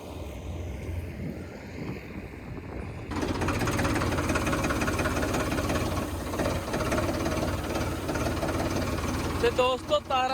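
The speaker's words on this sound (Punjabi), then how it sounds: "ਟਰੈਕਟਰ ਲੰਘਦਾ ਟਰੈਕਟਰ ਖੜਕਦਾ" A John Deere tractor engine runs with a steady, loud mechanical drone and rattle during wheat harvest work, quieter at first and then louder and continuous, with a few sharp knocks near the end.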